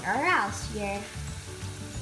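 Cauliflower florets frying in hot oil for restaurant-style Gobi Manchurian give a steady, close sizzle, with a voice speaking over it.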